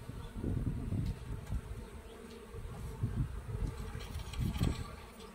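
Honey bees buzz around hives in early spring while colonies are moved into clean hives, a continuous droning hum with individual bees swelling louder as they pass close to the microphone, no voices.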